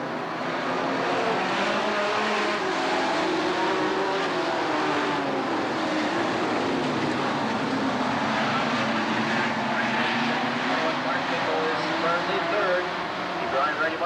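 Sportsman stock cars racing at the 1991 Sheboygan County Fair, a steady engine roar from the field that stays loud and continuous throughout, with an announcer talking over it.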